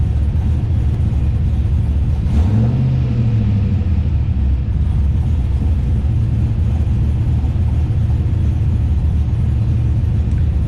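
An LS-swapped Nissan 240SX engine idles with a steady, loud, low rumble, holding a constant drone with a brief rise in pitch early on before settling back.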